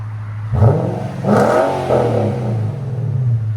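An Infiniti Q70/M56 S 5.6L V8 engine revs up sharply twice with a deep throaty exhaust rumble, then settles back to a low idle, close by.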